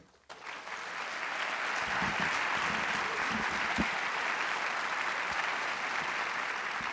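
An audience at a special speaking event breaks into applause welcoming Rekha Basu, the clapping starting abruptly after a short pause and holding as a dense, steady wash of many hands for several seconds.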